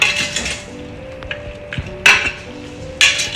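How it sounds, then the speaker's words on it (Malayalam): Beef chilli is stirred in a pan with a utensil, producing several sharp metallic clinks and scrapes at irregular intervals, close and clear, with no speech. "ഇതിനൊന്ന് നന്നായിട്ട് മിക്സ് ചെയ്തെടുക്കാം"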